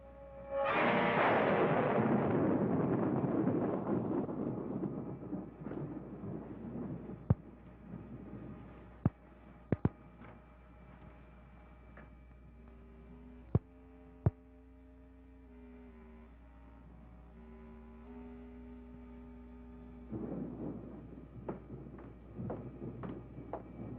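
A thunderstorm from an old monster movie opens with a loud rolling rumble that slowly fades. Sharp cracks and a low sustained tone follow, and the rumble swells again near the end.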